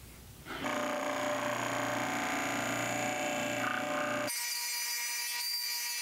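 A small wooden musky fishing lure is rounded over on a sander, giving a continuous loud abrasive whir that sets in after a quiet start and shifts to a thinner, brighter grind near the end.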